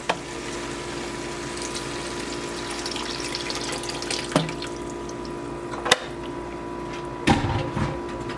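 Water runs and splashes into a pan of simmering beef, green chile and potatoes, with soft bubbling, a few drips and clinks, and a louder splash toward the end.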